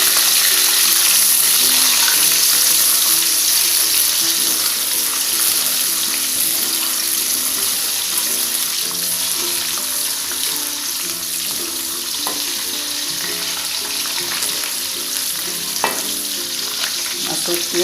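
Garlic sizzles steadily in hot oil for a tumis of oncom and leunca with shrimp and petai, a dense, continuous frying hiss with occasional stirring scrapes and faint tap-water sounds, heard alone with no talking.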